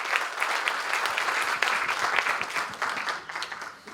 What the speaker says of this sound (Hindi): मैं चाहता हूं एक बार उनके लिए जोरदार तालियां हो जाएं।